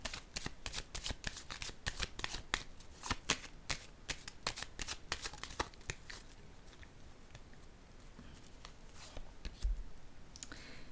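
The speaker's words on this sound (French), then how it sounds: "Je vais déposer une carte en cette zone." Tarot cards being shuffled in fast, crisp riffling bursts close up, then a few softer taps and slides as cards are laid down, quiet and without talking.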